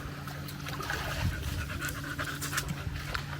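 A dog pants in quick, rhythmic breaths close by on a coastal walk in a Maine park, with faint outdoor background and no talking.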